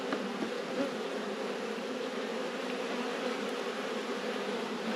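Honeybees buzz in a continuous, even drone while a beehive is opened for inspection, a close and steady hum of many insects with no talking.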